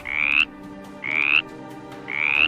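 A green frog gives three loud, even croaks about a second apart, each a short rising twang standing out alone over a quiet background.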